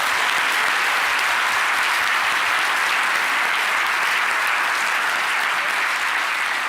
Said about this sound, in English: A final big round of applause for Jack Powell.